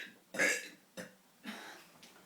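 A boy lets out a deep burp, then three more shorter burps follow in quick succession, close and loud with nothing else behind them.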